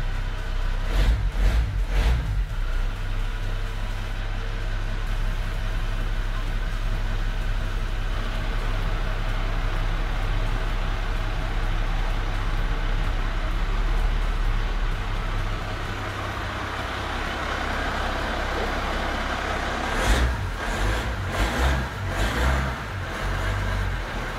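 A Mercedes 710 truck engine runs continuously, a steady low diesel drone with a few rougher bursts at the start and again near the end, close and unbroken, with no voices.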